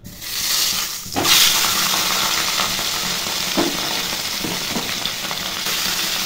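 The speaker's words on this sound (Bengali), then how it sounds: "এখন মেয়ের জন্য মাছ ভাজা করে নিচ্ছি।" Two fish frying in a pan in a home kitchen, a steady loud sizzle with brief bursts of sharper hissing and spitting, and no voices.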